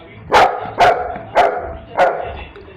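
A dog barks four times in an even rhythm, each bark sharp, loud and close, with quieter background noise between barks.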